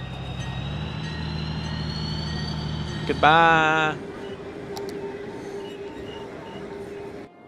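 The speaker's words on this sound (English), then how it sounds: "There goes an Amtrak train." An Amtrak train passes in the city-building game Cities: Skylines with a steady rumbling drone and a short, loud tonal burst partway through. A voice briefly speaks over it.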